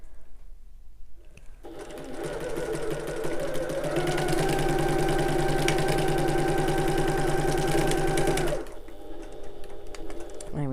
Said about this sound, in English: I'm just going to sew along that bottom edge using our regular seam allowance, regular stitch length, back stitch at the start and the end